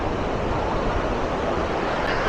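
Steady rushing surf at Gokarna beach, a continuous wash of breaking waves close by with no pauses, mixed with some wind noise.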